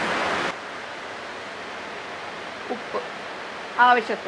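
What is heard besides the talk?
heavy rain falling outside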